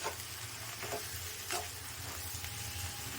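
Egg and drumstick leaf poriyal sizzles softly in a pan as a spatula turns it over, with a few distinct scraping strokes over a constant low frying hiss and no talk.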